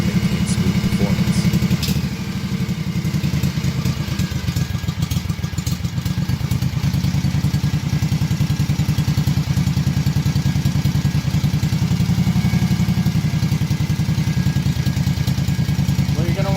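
A two-cylinder Kawasaki FH580B engine idling roughly, a steady, loud, close mechanical chug with clattering irregular firing that runs throughout.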